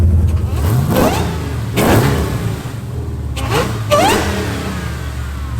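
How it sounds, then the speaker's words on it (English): A 1969 Dodge Daytona muscle car engine cranks, catches and roars, then revs up sharply several times in bursts, loud and close. "Just hit the key, it should fire up."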